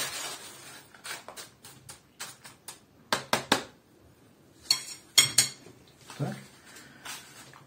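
Cedar seeds are stirred with agroperlite in a container, giving bursts of gritty rustling and clattering scrapes between quiet pauses, fairly close and moderately soft.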